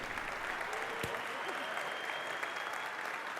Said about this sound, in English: Please give a round of applause to Stephan Bredell from Plato.